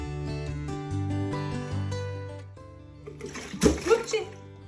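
Hot water poured out of a glass candle jar to loosen leftover stearin wax: a short, close splashing pour that comes in after a steady tonal background and lasts about a second.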